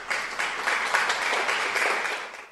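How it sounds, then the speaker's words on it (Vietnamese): A classroom of students applauds together in a school chemistry lesson, a steady burst of clapping lasting a couple of seconds with no talking over it. "Xin mời cả lớp cho 5 em Đỗ, Đại, Học, Điểm, Cao một tràng pháo tay."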